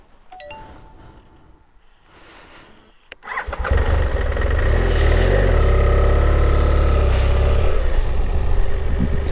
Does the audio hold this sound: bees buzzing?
no